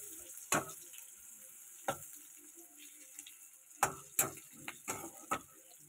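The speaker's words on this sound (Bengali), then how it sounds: "রসুন, পেঁয়াজ, জিরে তো এখনও দিইনি, আগে এগুলো একটু লাল লাল করে ভেজে নিই।" Garlic and onion frying in oil in a pan, a steady soft sizzle broken by several sharp clicks and scrapes of a utensil against the pan at irregular intervals.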